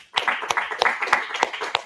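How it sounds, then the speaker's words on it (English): A small audience claps for a panelist at a blockchain course session, a sparse, thin patter of separate hand claps from just a few people, fairly close and brief. "So give a round of applause."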